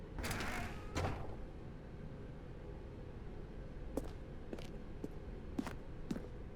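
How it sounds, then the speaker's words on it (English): A red door in The Stanley Parable creaks open with a drawn-out groan near the start, followed by several short, sharp mechanical knocks or footsteps spaced over a quiet background. "Stanley walked through the red door"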